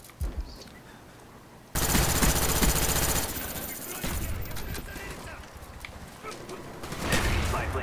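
Rapid automatic gunfire in a Call of Duty: Black Ops match on the Nuketown map, loud and dense bursts over continuous game noise, with a player's voice talking over it.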